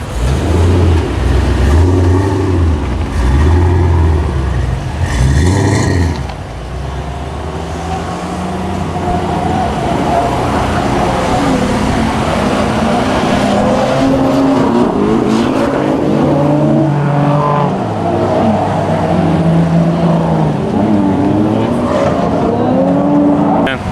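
A loud Ford Mustang engine roars and revs up and down, with growling exhaust and shifting pitch, heard up close for the whole stretch.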